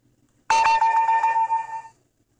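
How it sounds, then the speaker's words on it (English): A single bright electronic notification chime with a ringing tonal melody, loud and close, sounding for about a second and a half before stopping cleanly. "Now, let's try the default notification ringtone."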